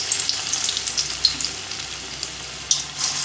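Pointed gourd (parwal) pakoras fry in oil over a low flame, a steady bright crackling sizzle with small pops, close and continuous with no talking.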